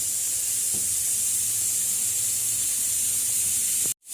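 An egg frying in a pan, giving a steady close hiss of oil and steam with a faint low hum beneath, ending in an abrupt cut to silence.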